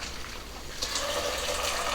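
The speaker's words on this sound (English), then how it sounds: "and see all the water runs out" Hot pasta water draining out of a lifted stock pot insert, a steady rushing, splashing gush that swells after the first second and keeps pouring, close by.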